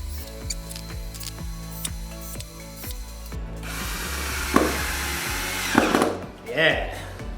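Power drill driving reclaimed fence screws into wood, a rhythmic ratcheting buzz that then turns into a steady whirring run with a few bumps and knocks, close by.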